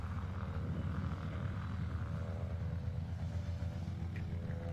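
A Decathlon aerobatic airplane pulls up into a climbing reverse turn at an air show, its engine giving off a steady, fairly faint droning hum with no break.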